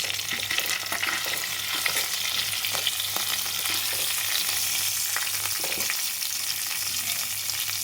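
Eggplant masala being stirred in a frying pan, a steady close sizzle with scraping stir strokes throughout and a low hum underneath, no voices.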